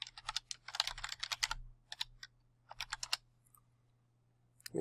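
Quick bursts of typing on a computer keyboard while renaming a layer in image-editing software, close-up key clicks in rapid clusters separated by short pauses, with no one speaking.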